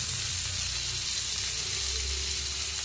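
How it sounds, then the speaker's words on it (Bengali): Cumin seeds fry in a little mustard oil, giving a steady, close hiss and crackle that runs unbroken and fairly soft, with no voices over it. "এবার জিরেটা দেখুন একটু ভাজা ভাজা হচ্ছে"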